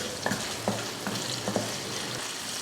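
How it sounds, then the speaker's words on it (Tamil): Potato pieces sauté in hot oil with salt and turmeric powder, giving a steady close sizzle with soft spatula scrapes stirring them in the pan. "உருளைக்கிழங்க லைட்டாக உப்பு பிடிக்கிறதுக்காக இந்த மாதிரி வதக்கி எடுத்துக்கலாம்"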